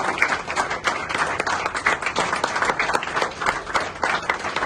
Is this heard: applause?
yes